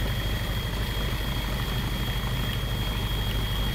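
A flight-simulator aircraft engine with flaps down on approach to a runway, a steady loud droning hum with a constant high whine, unbroken and alone for a few seconds.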